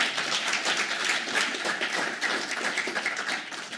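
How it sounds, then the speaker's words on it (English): Applause for candidates at a political debate, a steady crackle of many hands clapping in a hall, even and sustained with no voices over it. "Please give a round of applause to our candidates."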